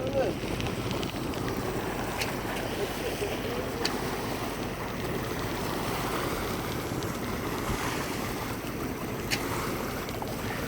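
A sailboat motoring under engine power across Hawke Bay on a hot day, a steady low engine drone blended with wind buffeting the microphone and water rushing along the hull, continuous throughout.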